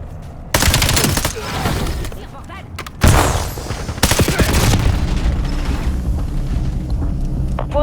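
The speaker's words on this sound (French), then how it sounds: "J'envoie une bombe collante." A sticky bomb explodes amid gunfire in a Call of Duty match on Nuketown, with loud booms and rapid shots in bursts and a voice speaking over the action.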